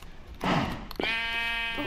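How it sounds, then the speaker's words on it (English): A sheep in the video game Kingdom bleats once, a clear wavering call that follows a short rustle and a sharp click of game sound, close and fairly loud. "I think there's a sheep over here."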